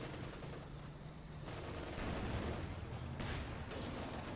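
Tank gunfire from a Churchill Mark 7 infantry tank in Company of Heroes 2, a dense rumble of shots and booms filling a busy battle soundscape, with no voices.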